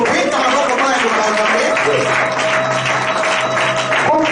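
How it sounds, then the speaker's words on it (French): Church congregation clapping and cheering at a Sunday service, a dense sustained wash of applause from a crowd filling the whole moment, with a voice speaking over it. "Est-ce que nous pouvons acclamer pour la parole de Dieu?"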